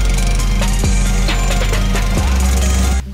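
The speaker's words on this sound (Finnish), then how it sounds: "Meillä on siis ihan uusi ruohonleikkuri, tämmönen työnnettävä." A brand-new push lawn mower runs loudly and steadily with a strong low engine drone and harmonic hum, close by, then cuts off abruptly near the end.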